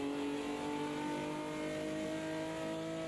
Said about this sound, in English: the revs kind of sound a little underwhelming on corner exit because you have to upshift